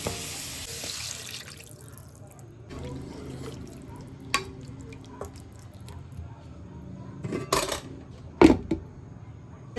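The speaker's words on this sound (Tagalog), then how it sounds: "Lagyan natin ng tubig, isang basong tubig." Water from a glass pours and splashes into a pan at a kitchen sink while cooking chayote, with soft clinks and a few sharp knocks of cookware, fairly close.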